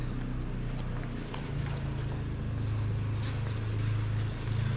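Horse hooves clopping and shifting on the ground while an English saddle pad and tack are put on, a steady nearby clatter over a low hum, with faint speech in the background.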